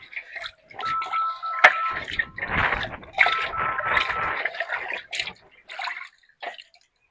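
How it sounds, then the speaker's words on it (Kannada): Fish being washed in a vessel of salted water, with intermittent splashing, swishing and dripping in close, uneven bursts separated by short pauses, no talking. "ಸ್ವಲ್ಪ ಪಾತ್ರೆ ಉಪ್ಪು ಹಾಕೊಂಡು ನೀರು ಹಾಕೊಂಡು ಅದನ್ನ ಆಗಿ ವಾಶ್ ಮಾಡ್ಕೊಂಡ್ರೆ"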